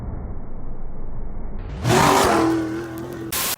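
A Ford Ranger prerunner desert truck, the 1447OMG build, revs hard after a low idle, its engine climbing into a loud, close roar before easing off and cutting sharply.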